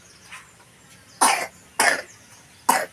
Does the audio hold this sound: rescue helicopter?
no